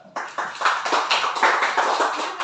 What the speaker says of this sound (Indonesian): Ayo, kita beri tepuk tangan dulu.